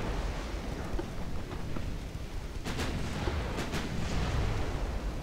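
Warship guns firing high-explosive shells in a naval battle game about cruisers dueling at Brest Harbor: heavy rumbling, noisy booms over a constant dense roar of sea and wind, with a couple of brighter gun reports near the middle.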